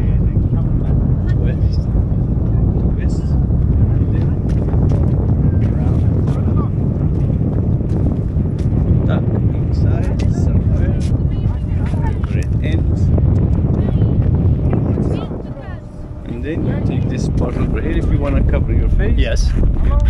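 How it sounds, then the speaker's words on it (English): Loud wind in the Sahara Desert in Morocco buffeting the microphone in a continuous low roar, with people talking underneath and a brief lull near the end. "Yeah, because it's windy."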